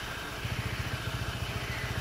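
A motorcycle engine runs steadily, its low, even thumping pulses fairly faint and heard alone without talk.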